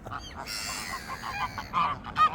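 Geese by a canal honking, a series of close, loud nasal calls in uneven bursts, with the sharpest honks near the end, over faint outdoor background.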